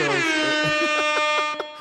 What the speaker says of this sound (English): the air horn always feels right, man. You can never go wrong with the air horn